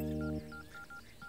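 A mobile phone number dialed on a keypad, a tone cutting off before a series of short evenly spaced DTMF beeps, quiet and clean.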